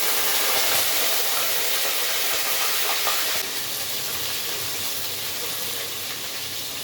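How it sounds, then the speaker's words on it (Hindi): Ginger and garlic sizzle in a hot pan of oil with mustard seeds, a loud steady hiss that eases slightly partway through, with no talking. "अब 1 टेबल स्पून में इसमें अदरक और लहसुन का डाल दूंगी।"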